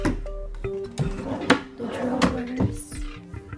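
A hotel room drawer slides open and shut at close range, with several wooden knocks, thuds and scraping rattles spread across a few seconds.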